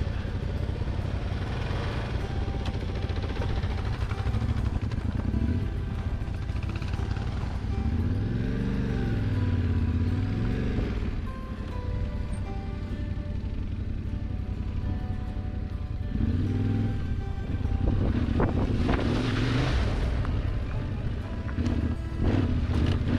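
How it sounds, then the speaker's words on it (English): A motorcycle crossing a stream of water on the Mosquito Pass trail in Colorado gives a steady engine drone that rises and falls through revs, with splashing and a brief lull partway through. "water crossings are super fun"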